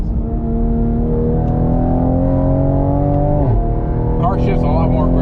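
A Toyota Supra with a stage 2 transmission tune pulls hard, its engine note climbing steadily before dropping sharply at an upshift, then rising again; loud and close from inside the car, with people talking over it.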